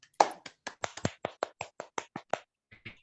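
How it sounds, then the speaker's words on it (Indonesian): A classroom of students clapping hands together in a quick, loosely unison rhythm, about a dozen distinct near claps in brisk succession, then a short pause and a couple of softer trailing claps. "Kita tepuk tangan dulu untuk kita semua."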